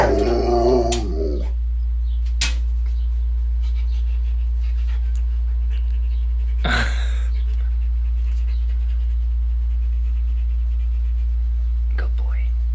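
A lazy pet dog breathes and pants softly at close range, with a few short bumps and a faint whine early on, and no talking over it.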